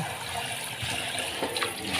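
Water runs steadily from a household shower faucet as a continuous close hiss and splash, with no one talking over it.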